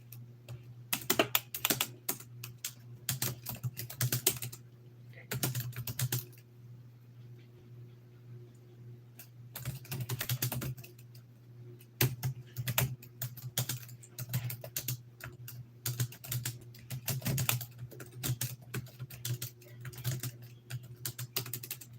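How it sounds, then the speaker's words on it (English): Rapid clattering of a computer keyboard while a paper is typed, bursts of keystrokes separated by short pauses, with a steady low hum underneath. "I am typing a paper. I am typing a little paper thing."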